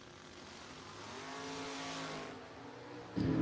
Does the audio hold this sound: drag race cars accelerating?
yes